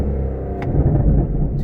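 Low, rumbling burble from the exhaust of a 2020 Aston Martin DBS Superleggera in sport mode, a brief close gurgle with a couple of faint sharp pops.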